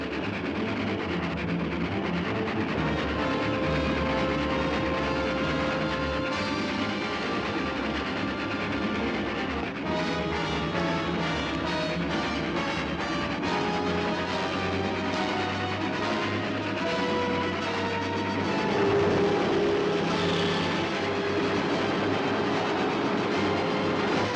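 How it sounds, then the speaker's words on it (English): A train rumbles past at close range, a steady loud roar with rhythmic clatter and metallic squeals running throughout. "The passenger train's already gone through the junction."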